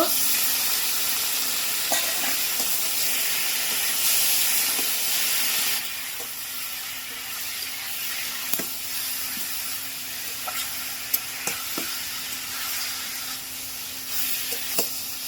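Bottle gourd greens stir-fried in oil in a kadai after garlic, onion and green chilli, giving a steady close sizzle and hiss with occasional stirring clicks and scrapes throughout.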